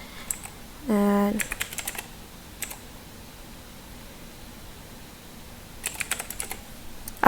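Typing on a PC keyboard: short, quiet bursts of keystroke clicks separated by pauses, with one brief tonal blip near the start.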